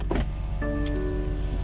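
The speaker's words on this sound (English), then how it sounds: "I'll probably open the windows at some point" The electric power window of a BMW F80 M3 whirs as it runs, a short motor hum inside the cabin that starts after a small click and stays steady to the end.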